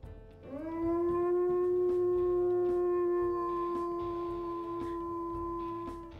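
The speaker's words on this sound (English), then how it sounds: "Very deep howl there" A long, deep wolf howl from the video game WolfQuest rises quickly and then holds one low, steady tone for several seconds before fading, over a faint low background hum.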